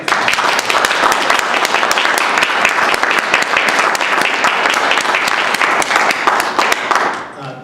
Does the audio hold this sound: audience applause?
yes